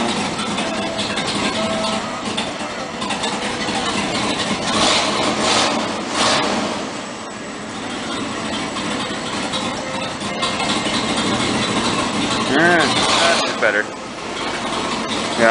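A 1970 Ford Explorer engine running at a steady rumbling idle after a restart, choke not fully set and exhaust in need of work, close by with people talking over it.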